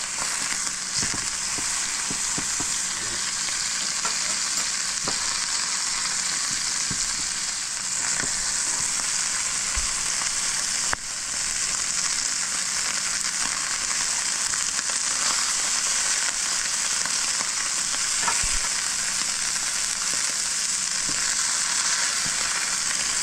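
Food fries in olive oil in a pan, giving a loud, steady, close sizzle with constant crackle that runs throughout without any voices.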